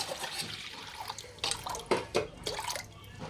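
Water splashes and trickles into a pot in uneven bursts, fairly close, with no one talking.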